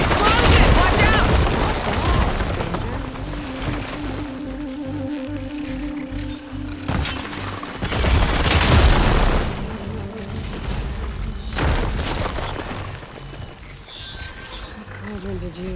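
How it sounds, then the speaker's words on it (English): A big explosion in Horizon Forbidden West: Burning Shores bursts loudly with heavy booms and rumbling roars, followed by further blasts, mixed with music and a voice. "Hey, big explosion! Watch out!"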